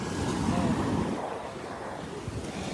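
Ocean surf washes onto a Florida beach while wind buffets the microphone, a loud, continuous rushing roar with one broad wave surge early on that then eases into steadier wash.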